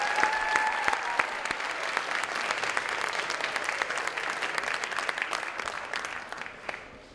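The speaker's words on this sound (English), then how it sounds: "please join me in giving all of your teachers a round of applause" An audience at an upper school recognition ceremony applauds its teachers, a dense sustained clapping from a large crowd that continues steadily before thinning out at the end.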